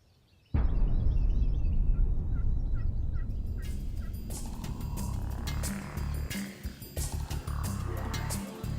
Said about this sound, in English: We could hear Tom all morning gobbling from a ways away